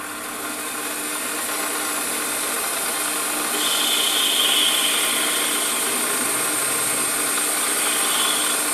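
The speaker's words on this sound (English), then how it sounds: "Let's just face the end" Lathe facing the end of a 10mm silver steel bar held in the chuck: a steady motor whine and drone running throughout, with a thin high cutting tone joining midway, loud and close.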